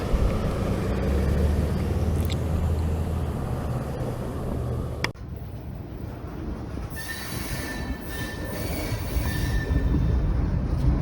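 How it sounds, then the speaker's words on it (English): A CSX freight train rumbles along the tracks near Waycross, Georgia, its wheels squealing in high, drawn-out tones as the cars roll past close by. "you will see this train back up and go forward"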